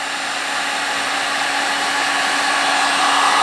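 Heat gun blowing hot air to shrink heat-shrink tubing onto a handlebar, a steady loud whooshing roar that builds slightly over its few seconds, with no talking.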